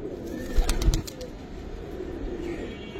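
A pigeon, likely a Giribaz-type pet bird, gives soft cooing sounds with a brief burst of wing flapping near the start, close by and without talk.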